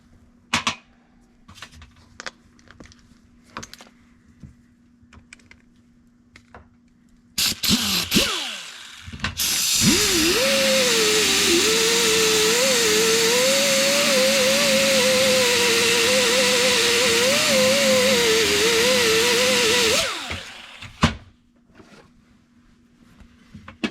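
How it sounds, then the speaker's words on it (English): A buffing pad on a power tool polishes an old Holley carburetor, spinning up into a loud, steady whine that holds for about ten seconds before winding down, framed by scattered clicks and knocks of handling. "And then just use the buffing pad and you polish it right up."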